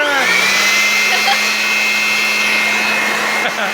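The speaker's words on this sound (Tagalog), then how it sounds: "Okay, blower!" A steady electric whine with a constant low hum drones on without a break, loud and close: a small Lomvum electric air blower motor running.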